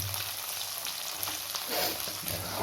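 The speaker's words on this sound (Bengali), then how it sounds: "এই যে ভর্তি এই ডিম ভাজা হচ্ছে" Tengra fish roe frying in oil in a pan, a steady, soft crackling sizzle with light stirring, fairly quiet and unbroken, no voices.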